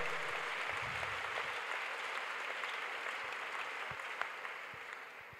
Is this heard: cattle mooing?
no